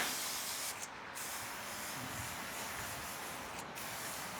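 A steady, close spray from a spray bottle hisses continuously onto a car, with a couple of brief breaks in its brightness.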